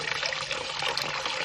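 Homebrewed wort for a coffee milk stout pours from a Digiboil down into a fermenter, a steady, close splashing trickle of liquid that runs continuously without talk.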